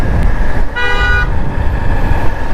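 A vehicle horn blasts once in busy city road traffic, a loud mid-length toot over the constant rumble of engines and wind heard from a food delivery rider's motorcycle.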